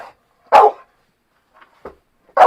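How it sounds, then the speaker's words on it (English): A single dog barks sharply at close range, followed after a pause by a softer short yip and then another loud bark, with silence between the sounds. "You're not allowed to bark at me."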